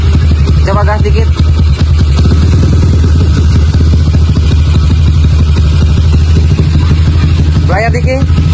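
A bored-up Honda GL classic motorcycle engine runs loud and close with a rough, throbbing roar that never lets up, while brief voices call out at the start and end.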